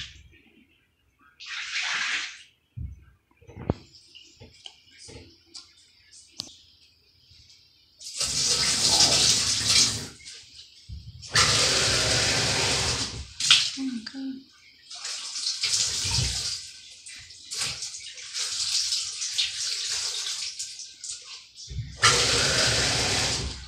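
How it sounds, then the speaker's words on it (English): Water poured from a cup rinses a baritone horn in a sink, coming in loud splashing bursts with quiet gaps between them and a faucet running at times. "I'm gonna get this cup and I'm just gonna pour some water in"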